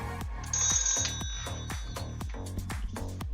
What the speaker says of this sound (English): Oh, got a phone call,